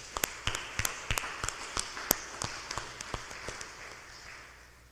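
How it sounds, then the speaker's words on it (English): Church congregation applauding during a Second Sunday of Easter service: a scattering of distinct, sharp claps from several people, fairly close, thinning out and fading to quiet by the end. "please just give it a round of applause"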